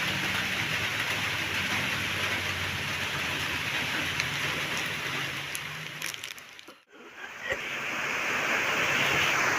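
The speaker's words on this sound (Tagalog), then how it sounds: "mas naririnig nyo pa yung ano ng ulan dahil sa bubong ni nanay" Heavy rain drums steadily on a roof, a dense loud hiss that briefly dips and then swells back to full strength.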